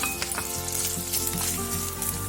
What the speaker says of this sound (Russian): В небольшом количестве масла обжариваем грудинку с чесноком.